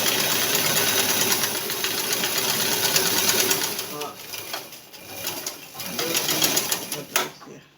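A sewing machine stitching a straight skirt, a fast steady mechanical whirring close by that slows and pauses, then runs again, with a voice talking over parts of it.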